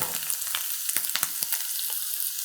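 Fresh chopped dill hits a hot pan for a smoked salmon frittata, setting off a close, bright sizzle dotted with sharp spitting pops and light stirring clicks, with no voices.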